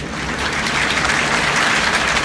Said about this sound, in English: Also, gotta wait for the applause.